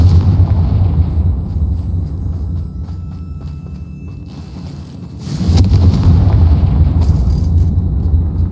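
A fire-spell explosion in the video game Hogwarts Legacy gives a loud, sustained rumbling boom that dips midway and then swells again into a second heavy blast, with no voices over it.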